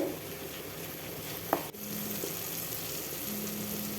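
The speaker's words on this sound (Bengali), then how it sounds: "আবারও অল্প কিছুক্ষণ সময় ভেজে নেব" Pomfret fish fries in hot oil with a constant sizzle, with a brief clatter of a utensil midway; no one speaks.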